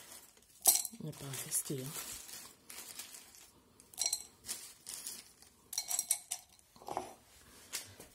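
Old clay pebbles from spent potting soil for a Calathea Yellow Fusion plant clinking and rattling against each other and a container in several short scattered bursts, with a person talking quietly between them.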